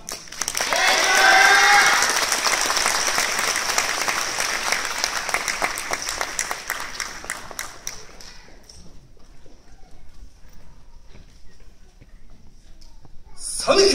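Audience applause and cheering at a new-year yosakoi dance event, loud dense clapping that swells early, then gradually fades toward near quiet before a brief sharp sound at the end.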